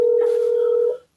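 A single steady telephone tone, loud and close, held for about a second before cutting off, with no talk over it.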